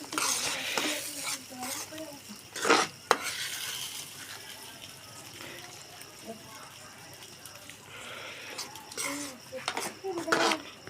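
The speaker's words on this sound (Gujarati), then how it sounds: "અને હવે નાખી દઈએ આમાં કોથમીર મિક્સ કરી લઈએ" Coriander leaves stirred into paneer bhurji in a pan off the heat, with a spoon scraping and clinking against the metal in scattered bursts over a faint sizzle, while a voice talks in between.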